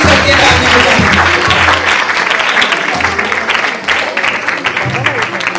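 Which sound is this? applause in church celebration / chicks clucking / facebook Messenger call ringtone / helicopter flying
applause in church celebration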